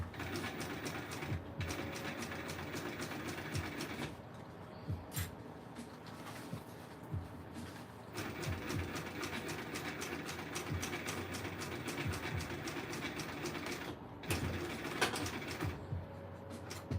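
A sewing machine stitches steadily while a custom tote bag is made, a fast mechanical whirring and clatter running almost continuously, with brief pauses near four, eight and fourteen seconds.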